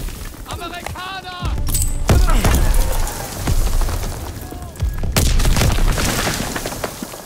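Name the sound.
artillery explosions on the beach in a D-Day video game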